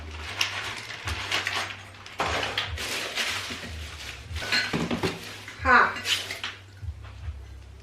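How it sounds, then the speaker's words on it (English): Ceramic mugs and dishes clink and rattle as they are handled and moved about, with repeated knocks of varying loudness over a low steady hum. "These are mugs that go with the set of dishes I gave away recently."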